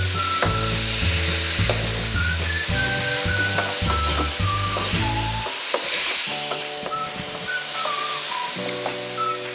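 Meat sizzles as it fries with ginger garlic paste for nihari, with a steady hiss and crackle and repeated scraping strokes of stirring in the pot, close and continuous.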